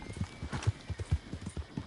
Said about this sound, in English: I think those are horses